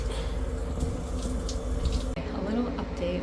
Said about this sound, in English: just let the water gently fall on him